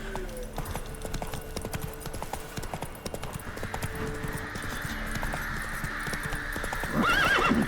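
Roach the horse in The Witcher 3, hooves clip-clopping steadily at a trot, then a loud whinny near the end, under faint game music.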